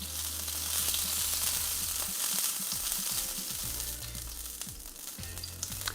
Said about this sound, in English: That oil that's inherently in a cast iron pan is making that water sizzle.